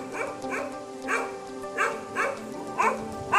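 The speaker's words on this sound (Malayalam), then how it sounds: "ഇവിടെ ഒരു പട്ടിയല്ല കേട്ടോ, രണ്ട് പട്ടിയുണ്ട്." Two dogs in a cage bark repeatedly, sharp barks in uneven bursts about every half second to a second, moderately close and fairly loud.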